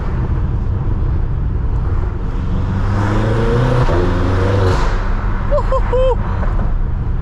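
Tuned 800HP BMW M6 on New York City streets, with a loud, steady engine drone and road roar throughout and a rising revving pitch as it accelerates, close and continuous.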